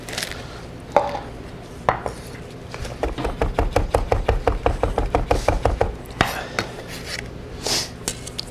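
A knife chops fresh parsley on a cutting board in a quick, even run of about two dozen close thuds, preceded by a few scattered knocks and followed by light handling sounds.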